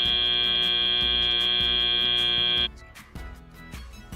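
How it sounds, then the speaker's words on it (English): A loud, sustained electronic buzzer blares for nearly three seconds to end a match at a FIRST Tech Challenge robotics semifinal, Into The Deep, then cuts off into arena noise with clattering. "As the buzzer sounds"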